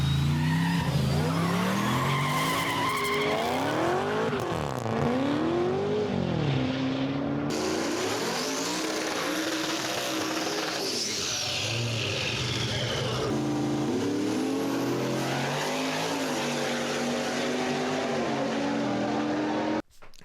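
A Chevrolet Trailblazer SS with a V8 does a burnout, engine loud and close, revving up and down repeatedly under a constant roar of spinning, squealing tires, then cutting off abruptly at the end.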